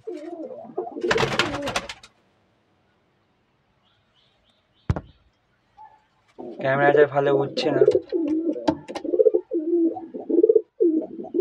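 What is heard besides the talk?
pigeons cooing in a loft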